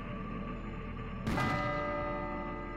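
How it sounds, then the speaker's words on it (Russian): A single deep bell strike in the video game Serious Sam: Bright Island rings out over a quiet background hum, its tone lingering and slowly fading. "Здесь есть колокол такой."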